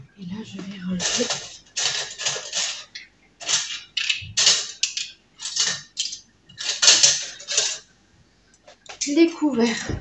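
Metal cutlery being sorted and put away in a home kitchen, rapid bursts of clinking and rattling in several clusters, close and fairly loud, with brief pauses between handfuls.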